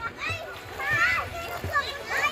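Water splashes in short bursts as someone bathes in a village stream in a mountain valley, with a voice and other talk running over the light splashing.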